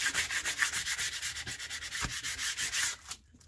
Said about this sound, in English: I'm going to take my card here, and I'm just going to make sure that it's pressed into that glue really good